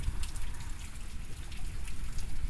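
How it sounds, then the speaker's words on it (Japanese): Steady wind-driven rain during Typhoon No. 14, a dense hiss of drops and trickling water that runs unbroken throughout at moderate loudness with no voices. "風で雨が動いてる"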